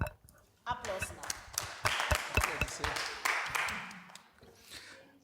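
A small group claps in a scattered, uneven burst of sharp hand claps that tapers off, with people talking alongside.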